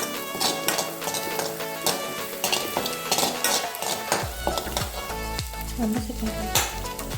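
Ginger garlic paste and chopped green chillies fry in a pan for pav bhaji, a loud, close sizzle broken by repeated metallic clinks and scrapes of a spoon stirring against the pan.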